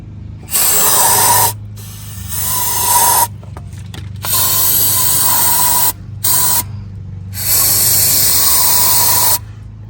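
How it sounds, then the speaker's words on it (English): Several hissing bursts of cleaner sprayed into the EGR passage of a 1998-2002 Honda Accord, close by, separated by short pauses, with a steady low engine hum running underneath. "So yes, I spray it up here."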